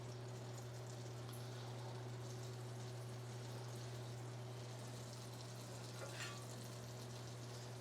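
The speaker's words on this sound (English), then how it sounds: "we're going to toast this English muffin in this butter" English muffin toasting in melted butter in a pan, a faint, steady sizzle under a constant low hum.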